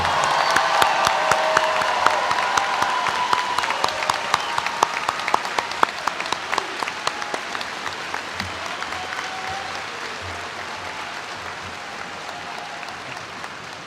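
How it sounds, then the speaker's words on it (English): Sustained audience applause fills a university commencement ceremony honoring a newly commissioned second lieutenant, dense steady clapping from a large crowd with a few cheers, fading slightly toward the end. "Please join me in offering a round of applause to our newest second lieutenant."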